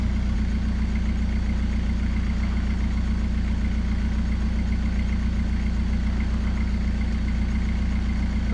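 A vehicle motor runs steadily at idle-like revs while winching a Toyota Land Cruiser through wet, soupy ground, a constant low rumble with deep harmonics and continuous vibration, no talking.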